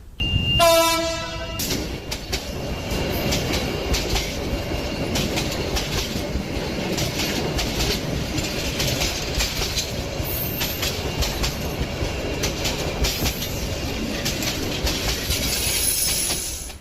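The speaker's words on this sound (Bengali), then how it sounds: "দেখতে দেখতে ট্রেন চলে এলো" A train pulls into a station with a brief horn blast at the start, then a steady loud rumble of rolling wheels and carriages with faint clicks and metallic squeals throughout.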